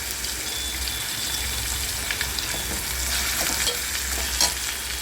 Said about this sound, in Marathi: मिरची टॅमॅटो भाजायला टाकला आपण, मोहरी टाकायची,